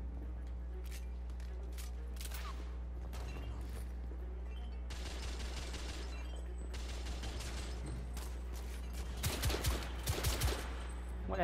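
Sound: gunfire in the video game The Order 1886

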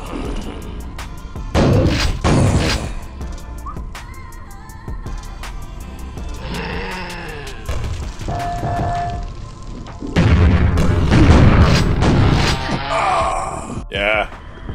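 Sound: rocket launcher explosions in Quake video game

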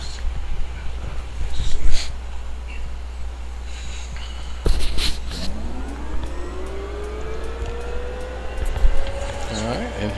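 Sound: Huey helicopter engine spooling up in DCS video game

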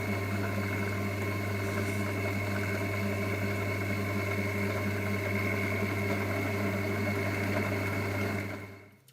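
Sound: drilling aluminium dry with a drill press

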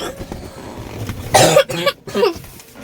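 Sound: coughing

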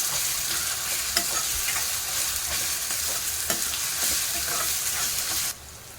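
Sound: ginger garlic paste being sautéed in a pan

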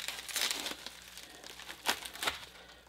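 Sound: opening bushcraft gear package packaging with a knife

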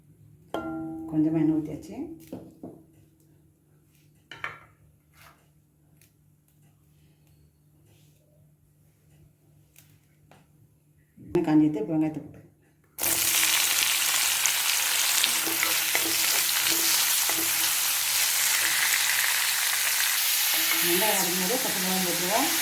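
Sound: oil poured into kadai on stove, frying

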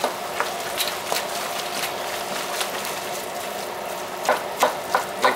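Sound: browning ingredients in a pan for homemade chili

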